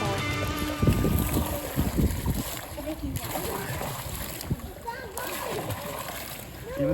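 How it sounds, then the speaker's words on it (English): A radio-controlled shark toy is pushed into a hot tub, making a close burst of splashing and sloshing water, with wind buffeting the microphone and people talking throughout. "So now we're, putting it in the water."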